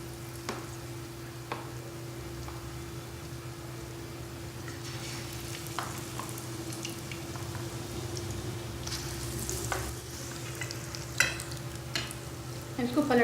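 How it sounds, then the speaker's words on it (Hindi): Aloo pakoda fritters drop into hot oil for deep frying, setting off a steady low sizzle with scattered pops and bubbling crackles that grow busier near the end. "तेल गरम है, अब हम डीप फ्राई करेंगे। इस तरह से डाल के डीप फ्राई करना है।"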